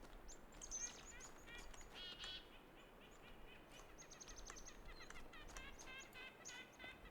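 In The Talos Principle 2, a bird calls repeatedly in bright chirping bursts over soft outdoor ambience, moderately loud and spread through the scene.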